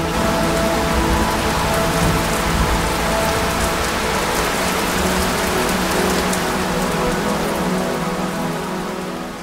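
Heavy rain pours down at Bhandardara hill station in Maharashtra, a dense, loud and constant hiss of drops drumming on surfaces with no voices.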